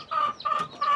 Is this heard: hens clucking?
yes